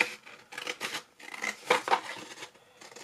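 Glue-sticky scissors being wiped and worked clean, a close series of short scraping, rubbing and snipping sounds in an uneven rhythm, with no talking.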